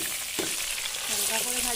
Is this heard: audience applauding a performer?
no